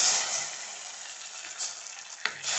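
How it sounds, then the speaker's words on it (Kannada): Hot spice tempering poured into simmering mango rasam, a loud broad sizzling hiss that fades gradually with a sharp clink near the end, no talking. "ಈ ಒಗ್ಗರಣೆ ಸೇರಿಸೋಣ."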